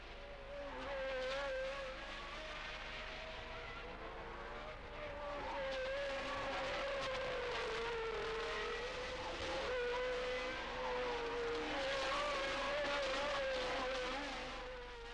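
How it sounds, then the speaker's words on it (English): Formula 1 race cars from 1979 stream through a chicane at Monza, their high-revving engines whining loudly and continuously, with the pitch rising and falling as the cars brake and accelerate past. "with Scheckter chasing as the field streamed through the second of Monza's 2 chicanes"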